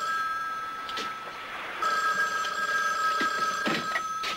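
A telephone rings with a bright electronic trill in repeated bursts, fairly close and clear, with a few faint knocks underneath and no talking.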